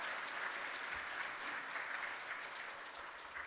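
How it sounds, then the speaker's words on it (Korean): A church congregation applauds a child's baptism with steady, sustained clapping that fills the room evenly for several seconds, heard somewhat distant and soft. "다 같이 박수로 축하해 주시기를 바랍니다."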